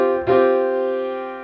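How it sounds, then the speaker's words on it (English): A suspended fourth chord on C, played as a single sustained chord on a keyboard instrument and left to ring and slowly fade, with no voices. "suspended fourth is when you move down 2 from the last note"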